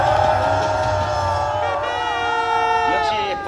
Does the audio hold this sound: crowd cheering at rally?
yes